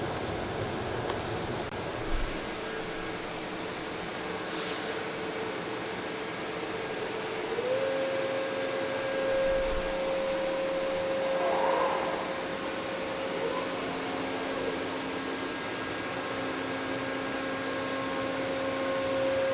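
A 2.5 inch fly cutter in a collet surfaces wood under a dust boot, making a steady whooshing machine roar. A sustained whine joins partway through and holds to the end.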